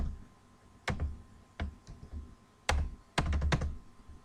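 Code typed on a computer keyboard while writing a CSS style block: bursts of sharp, close key clicks in short irregular clusters separated by brief pauses, with no talking.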